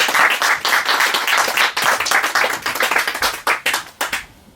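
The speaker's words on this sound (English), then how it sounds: "let's have a warm-up applause for our first speaker, Fred Gardaphe" An audience claps and applauds warmly for the first speaker at an event celebrating poet Lawrence Ferlinghetti, dense steady clapping that thins out and fades near the end.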